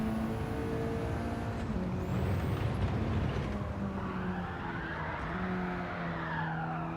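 A Mitsubishi race car in Gran Turismo 7 steps out at the Red Bull Ring, its tires squealing in long wavering tones over a steady engine roar that runs continuously and close.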